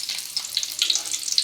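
Onion pieces dropped into hot oil for a gongura dried-fish curry give a brief, bright crackling sizzle, close and without talk.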